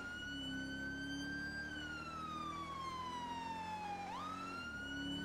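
Police car siren in GTA V, a loud wailing tone sliding slowly down, then sweeping sharply back up, heard close over a low engine rumble.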